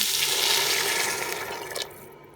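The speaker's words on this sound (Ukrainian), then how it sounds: "та заливаю окропом." Steady rushing of boiling water poured into a pot, a broad continuous splashing that fades near the end.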